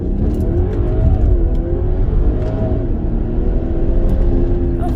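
BMW with a B58 engine and JB4 tune accelerating hard, a loud, close rising engine rumble heard from inside the car, with shifts through the gears.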